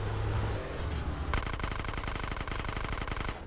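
Automatic gunfire in GTA San Andreas, a rapid rattling burst of shots that runs steadily for a couple of seconds after a quieter, rumbling lead-in.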